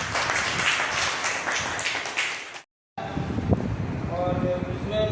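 Audience clapping at a school teachers' educational meeting: dense, steady applause for about two and a half seconds, then a brief cut to silence, followed by talking over room noise.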